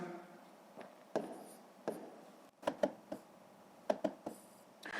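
Pen scratching out numbers by hand during long division, a series of short faint strokes and taps in a quiet room, irregularly spaced with brief pauses.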